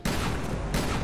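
Gunfire in the video game Resident Evil Revelations 2 Raid Mode, a dense sustained burst of loud shots running the full second with a brief swell near the end, no talking.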